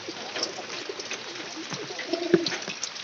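Pigeons kept in a loft coo softly during rain, the low murmuring calls steady and fairly faint against a constant hiss of background noise.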